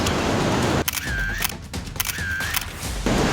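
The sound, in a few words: camera shutter taking photos of a caught fish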